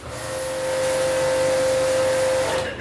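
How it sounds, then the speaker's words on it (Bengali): A jet pump sprays water to wash an air conditioner during servicing, a steady loud hissing spray with a sustained pump whine holding evenly for about three seconds before cutting off. "Jet pump wash."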